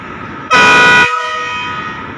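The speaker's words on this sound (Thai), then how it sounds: "สียงวีดดังซะด้วย" One loud, close whistle blast from a cement freight train locomotive waiting in a siding lasts about half a second, then cuts off and leaves a faint ringing over low background rumble.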